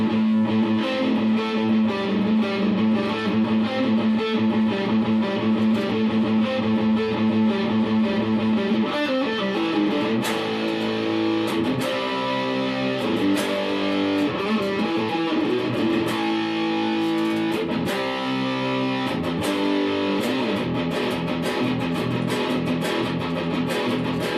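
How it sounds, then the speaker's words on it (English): Heavy distorted electric guitar plays through an Orange Crush CR120c 2x12 combo amp, with thick, chunky sustained chords and riffs, loud and continuous throughout. "Distortion's really good. It gets really chunky."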